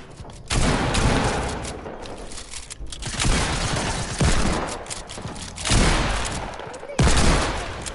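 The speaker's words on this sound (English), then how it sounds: "Why should I shoot him with my shotgun?" Shotgun fire in a video game booms out in a series of loud, heavy blasts spaced a second or two apart, each with a crashing tail and no talking.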